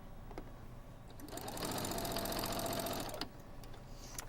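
A sewing machine stitching a throw pillow runs in one steady whirring burst of rapid needle chatter for about two seconds, close and fairly loud, with quiet clicks before and after.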